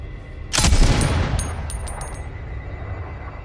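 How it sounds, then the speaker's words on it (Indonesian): A single sharp gunshot cracks out, followed by a long rumbling echo that fades slowly, heard at a distance. "suara tembakan dari sniper musuh pun kembali terdengar"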